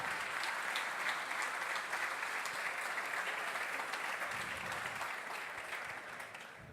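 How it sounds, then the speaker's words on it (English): An audience at the Formula SAE Lincoln electric awards ceremony applauds the fourth-place team, steady dense clapping that tapers slightly toward the end. "Let's give them a nice round of applause"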